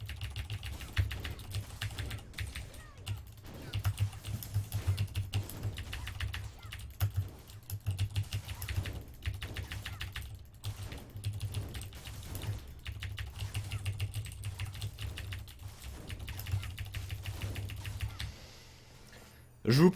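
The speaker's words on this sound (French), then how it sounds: "Vous avez entendu mon clavier et mes clics" Steady computer keyboard typing with scattered mouse clicks runs throughout while playing a video game, close and moderately loud, under a low constant hum.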